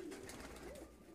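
Ornamental fancy pigeons of mixed colours kept together in one loft coo softly, a low rolling call repeating over steady background hum, with no talking.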